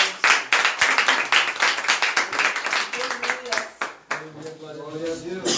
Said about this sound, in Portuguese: E as palmas que exaltam o Senhor.